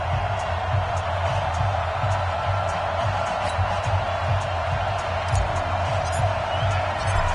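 Stadium crowd noise in an EA Sports NFL game before an Arizona Cardinals versus Philadelphia Eagles matchup, a steady broad roar of cheering that holds level throughout with no clear talk.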